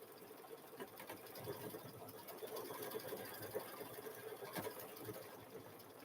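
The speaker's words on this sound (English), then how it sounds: "it's stitching right over that tape" A sewing machine stitches a chicken quilt in the hoop, running over tape with a continuous rapid mechanical whir and needle patter, steady and fairly faint throughout.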